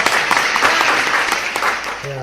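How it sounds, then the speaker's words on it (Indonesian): A short wash of audience applause during a talk on young entrepreneurship, steady and fairly close, with a voice starting up at the very end. "Tepuk tangan dulu."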